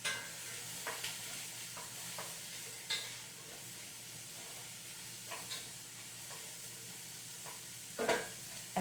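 Vegetables for a late-summer minestrone soup sizzle in a pot, a steady quiet frying hiss broken by a few sharp clinks and scrapes of stirring, with no voices.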